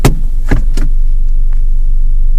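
A manual car's engine runs at a steady low idle rumble, heard close and loud, with a few sharp clunks and knocks near the start.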